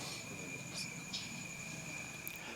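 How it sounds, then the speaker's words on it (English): Steady, high-pitched cricket chirping fills the quiet night air, a continuous trill with faint occasional rustles. "We're going to hear the crickets."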